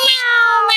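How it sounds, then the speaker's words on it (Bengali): A cat gives a single loud, drawn-out, wavering meow during a fight between cats, close by and alone. "বিড়ালের মারামারি"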